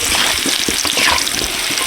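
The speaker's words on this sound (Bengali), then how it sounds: "কত সুন্দর আলু ভাজা হয়েছে।" Potatoes fry in mustard oil with turmeric in a village kitchen, producing a loud, dense, continuous sizzle with soft stirring under it, close and without talk.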